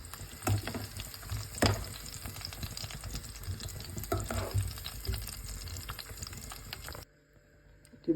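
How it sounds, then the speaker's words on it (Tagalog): Egg frying in oil in a pan at home, a steady loud crackling sizzle with bursts of spattering for about seven seconds, then cutting off to near quiet before a brief final noise. "Ito po ang iprito ng ating itlog."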